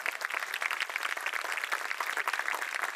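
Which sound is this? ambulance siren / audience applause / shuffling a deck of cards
audience applause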